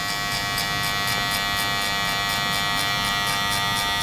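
Electric hair clippers run with no guard, a steady close, loud buzz holding at an even level throughout with faint rhythmic pulses.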